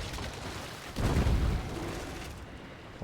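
Ship cannons fire in the naval battle game World of Sea Battle, a heavy low boom landing about a second in and rumbling off over a continuous background roar.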